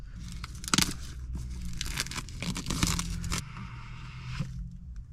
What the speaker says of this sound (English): let's do an unboxing of the Auxito headlight bulbs and see what we're working with